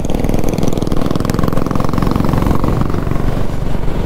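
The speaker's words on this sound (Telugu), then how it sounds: "బుల్లెట్ జావా, మనకు రెండు వెహికల్స్ వచ్చేసి ఏంటి, మన వింటేజ్ మోటార్ సైకిల్స్ రెండు" Motorcycles idling nearby, including a vintage Royal Enfield Bullet, a Jawa and a Yamaha R15 sports bike, giving a loud, steady thumping engine rumble throughout with no speech.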